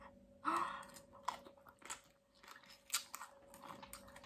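Someone chews crunchy green mango salad with fermented fish sauce and tomato close to the mic, a run of wet crunching bites, loud at first and then softer and irregular.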